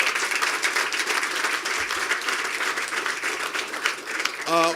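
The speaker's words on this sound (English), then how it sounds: "So if you wouldn't mind just giving the mayors one round of applause." Audience applause for mayors at a tribute event, sustained clapping from a sizable crowd at moderate level, with a brief tonal sound at the very end.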